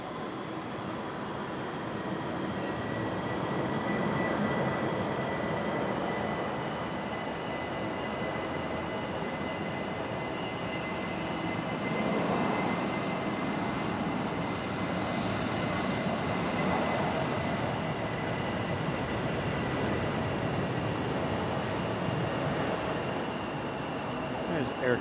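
Avelo airliner turning onto the runway and powering up on a stormy day, a continuous broad engine roar with a steady whine that swells gradually, heard at moderate distance without talk.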